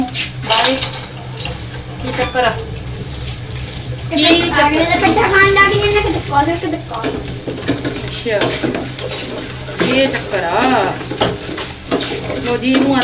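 Chopped garlic and ginger frying in a pan with cumin, a loud steady sizzle with metal stirring and scraping clinks, while someone talks over it.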